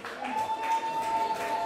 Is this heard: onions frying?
no